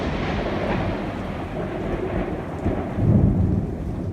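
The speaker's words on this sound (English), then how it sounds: "obviously we got a lot of thunder to work with" Rolling thunder from a Florida storm, recorded as source material for explosion sound design: a continuous deep rumble with rain noise that swells louder near the end.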